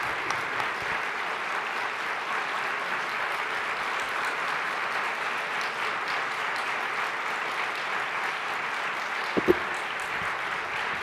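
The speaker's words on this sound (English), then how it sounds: "I think the applause is well needed." Sustained audience applause fills the hall at a global health conference session on the Ebola epidemic, a steady, dense wash of clapping at moderate distance with no talking over it.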